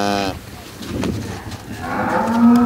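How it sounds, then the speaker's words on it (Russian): Black-and-white and Yorkshire breed cattle on a collective farm mooing, with a loud close moo opening the clip, followed by farm background noise and a second drawn-out moo rising near the end. "Сегодня коровы черно-пестрой и йоркширской породы крупного рогатого скота встречают почетных гостей"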